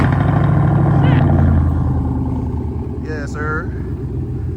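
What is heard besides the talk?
Pontiac G8 GT engine cold start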